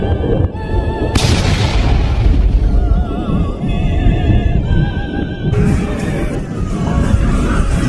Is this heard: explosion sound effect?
yes